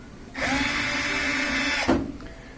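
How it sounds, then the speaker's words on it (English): A power drill whirs steadily for about a second and a half while backing out Phillips head screws from an over-the-stove microwave, loud and close, then stops with a brief clunk. "So we're going to remove these two Phillips head screws."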